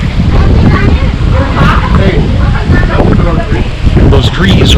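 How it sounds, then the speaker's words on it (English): Strong wind roars through forest trees in a tornado storm at Saylorville Lake, a loud, continuous buffeting rush with gusty swells, and voices talk over it at times. "Those trees are blocking most of the wind."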